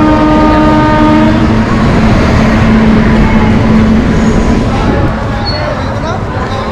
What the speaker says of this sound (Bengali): 11টার সময় কিন্তু চলে এলো রাধিকাপুর কাটিহার প্যাসেঞ্জার